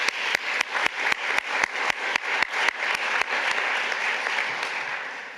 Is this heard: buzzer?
no